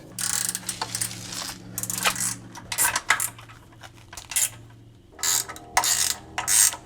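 Metallic clicking and ratcheting as bolts are tightened on a boat trailer step, coming in short irregular bursts with brief pauses between them, close and fairly loud.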